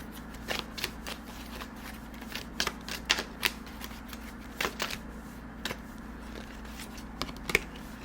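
Oracle cards being shuffled and pulled from the deck during a tarot-style reading, crisp papery riffles and snaps in irregular bursts close by, over a low steady background hum, no talking.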